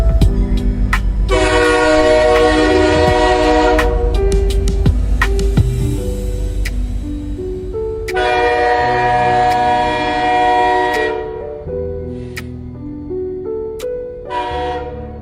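A train at Katwa station blasts its horn in long, loud, close blares, with a shorter honk near the end over the rumble of rail traffic.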